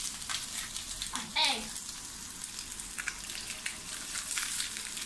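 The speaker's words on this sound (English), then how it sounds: "Alright, see how it sizzles." Egg mixture sizzling in a hot frying pan, a soft steady crackle with occasional spatters close by, while a voice chirps briefly over it.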